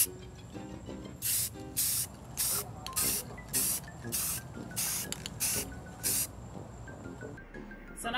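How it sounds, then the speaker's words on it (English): Repeated short bursts of white spray paint from an aerosol can, about eight hissing sprays of roughly half a second each, close and loud over a faint background. "We're gonna go ahead and paint it with a quick white spray paint over it."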